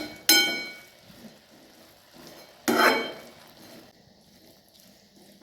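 Drumstick vegetable curry being mixed in a pan with a spoon, two sharp scraping clatters of utensil against metal spaced a few seconds apart, with quieter faint stirring sounds between them.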